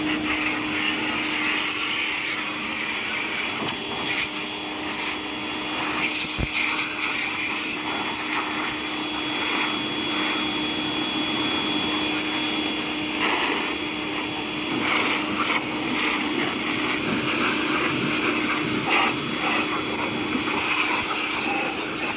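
A John Deere S140 22HP pressure washer rinses dust off a surface, its engine and spray giving a loud, steady, unbroken roar that runs close and alone throughout.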